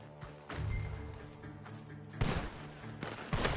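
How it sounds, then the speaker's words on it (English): Gunfire from a barn in Red Dead Redemption II, a few sharp thuds and bursts spaced irregularly over a muffled background, moderately distant and fairly quiet. "The gunshots are coming from that barn!"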